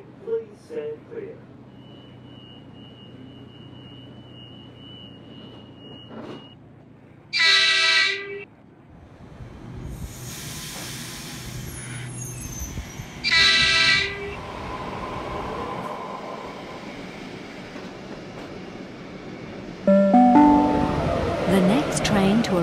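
A commuter train departs a station platform at Blacktown, with loud rumbling and rolling rails building under two bursts of horn or warning tones, while public-address announcements are heard.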